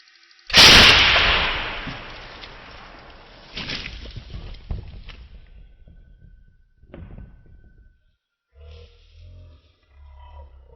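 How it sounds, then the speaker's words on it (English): A propane-powered potato gun fires at a watermelon, one loud sharp blast near the start followed by a long decaying rumble and scattered thumps, then quiet low noise. "But now let's try shooting a watermelon."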